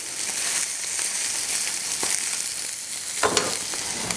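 Lamb fat sizzles steadily in a hot pan, a dense, continuous hiss with small crackles and a louder burst of spitting near the end.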